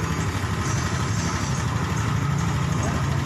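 A Honda Beat ECO scooter engine idles steadily and close by, a continuous low, even hum with a faint higher hiss, its speed being brought back to a stable idle around 1600–1700 RPM.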